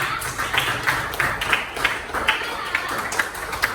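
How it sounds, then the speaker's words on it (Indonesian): Classroom applause for a student team in a primary maths lesson, a run of quick hand claps pulsing at a steady rhythm, moderately close and mixed with voices. "Beri tepuk dulu untuk Tim Putra."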